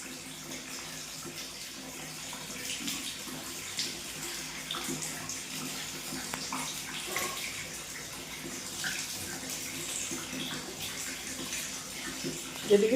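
Flowing tap water splashes steadily where a pet parrot stands to bathe, a soft continuous patter at close range with faint background sounds.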